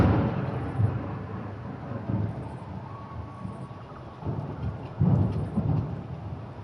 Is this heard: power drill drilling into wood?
no